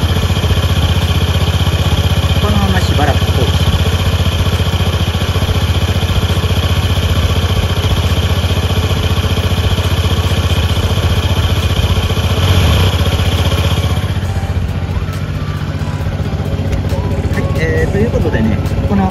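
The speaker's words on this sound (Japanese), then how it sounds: "エンジンを回しながらエア抜きですね" A Honda Crea Scoopy scooter engine idles steadily and close during coolant air bleeding, a continuous low buzzing drone that holds its pitch for the whole stretch.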